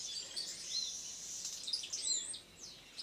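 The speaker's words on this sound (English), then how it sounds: "The bird's so gorgeous." Bird calling in Kibale Forest, Uganda: thin, high whistled chirps and trills, quiet and somewhat distant, repeating irregularly over faint forest ambience with no voices.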